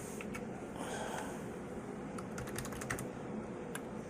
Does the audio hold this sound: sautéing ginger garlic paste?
no